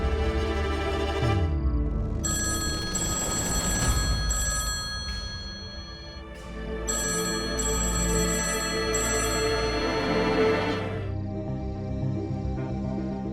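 An old landline telephone bell rings in a home, loud and insistent in repeated bursts with brief gaps, filling the room on its own.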